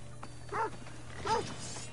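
Dog in Assassin's Creed Odyssey giving two short bow-wow barks about half a second apart, close and moderately loud over a low steady game background hum.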